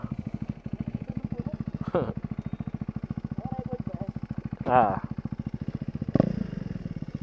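A motorcycle engine idles and runs steadily in a harmonic, pulsing rumble on a road in Bulacan, with brief clattering bursts and voices talking nearby.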